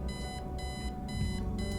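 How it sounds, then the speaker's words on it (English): Obnoxious alarm clock ringing in the video game Kathy Rain, harsh buzzing bursts repeating in a steady on-off rhythm, loud and alone without talk. "Eileen's obnoxious alarm clock."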